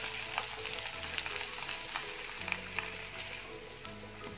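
A finger potato omelette fries in a pan over a medium-low flame, a soft steady sizzle with small crackles and pops scattered throughout, nobody speaking.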